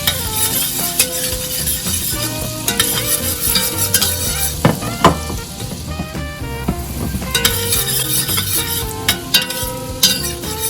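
Minced garlic sizzles in a pan on lowered heat while a utensil scrapes and clinks against the metal at irregular intervals. The sounds are close and fairly loud, and no one speaks.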